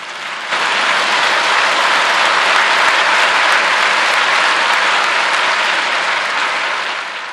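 A large church congregation bursts into applause during a Sunday sermon, a dense, loud, sustained roar of clapping that starts abruptly, holds evenly for several seconds and tapers slightly at the end.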